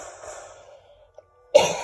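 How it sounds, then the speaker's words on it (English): A quiet low murmur fades out, then a single sharp cough bursts in loudly near the end, close by. "Sorry about all the coughing noise."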